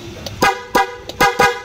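A loud motorcycle horn, wired through relays, blares in four short sharp honks at an uneven rhythm, close and dominant.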